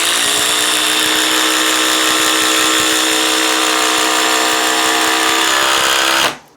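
Cordless impact driver, in a Ryobi HP versus Ridgid comparison, sinks a 6-inch lag bolt with a loud, continuous high-pitched whine and rapid hammering rattle lasting about six seconds before cutting off abruptly.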